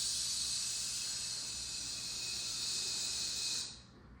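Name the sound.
hissing breath imitating a snake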